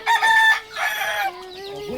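A chicken on a farm crows loudly close by, followed by a few short clucks, with no talk over it.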